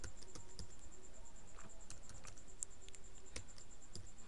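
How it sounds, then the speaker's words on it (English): Steady typing on a computer keyboard, a continuous run of close, crisp key clicks with a few louder taps mixed in, heard alone over faint background hum. "Let's type in its presence."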